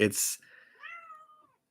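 A pet cat meows once, a short, close call that follows a brief burst of indoor noise and trails off, heard in a quiet room at night.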